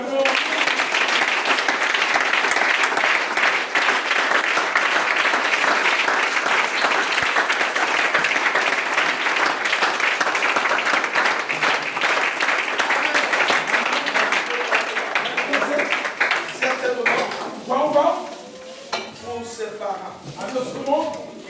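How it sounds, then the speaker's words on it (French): A large church congregation applauds loudly and steadily for most of the clip, then the clapping thins out and fades near the end. "Donnez à Dieu une acclamation."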